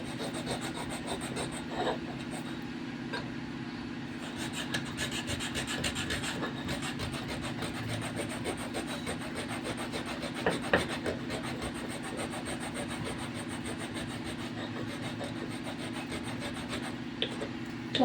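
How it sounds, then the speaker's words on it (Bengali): Sandalwood being ground into paste on a stone, a continuous rough rubbing and scraping that holds steady throughout at an even level, close by, with a constant low hum underneath and no speech. "ততক্ষণ আমি চন্দনটা বেটে নিই।"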